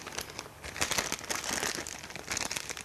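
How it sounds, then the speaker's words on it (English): A plastic piping bag crinkles and rustles as it is handled and shaken with an icing nozzle inside, close and fairly quiet, in quick irregular bursts. "you put your icing nozzle in the bag and you shake it down"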